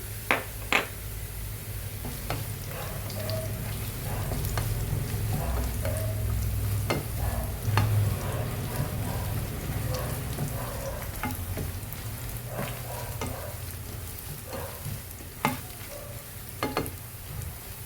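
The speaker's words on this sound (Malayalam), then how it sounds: "നമുക്കിത് തേങ്ങാക്കൊത്ത് ഇട്ട് കൊടുക്കാം." Coconut slices and onions frying in oil for Angamaly-style beef fry give a steady, close sizzle with occasional sharp stirring scrapes and clicks throughout.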